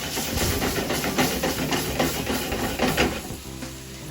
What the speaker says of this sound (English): And then I'm going to add some wine here.